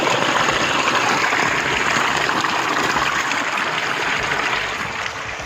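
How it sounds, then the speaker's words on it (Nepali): Clear water flowing in a stream at Shivapuri, a steady, loud, close rushing and gurgling wash that continues throughout. "यो पानीको झन् आवाज के आहा कस्तो मजा लाग्छ साथीहरू मलाई यस्तो पानीको आवाज सुन्न"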